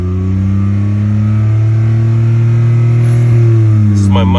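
A Honda car engine runs up to speed with a loud, steady, close drone whose pitch slowly rises while the car sits still. Faint tones come in near the end.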